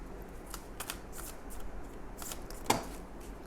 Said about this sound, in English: let's get you a moonology real quick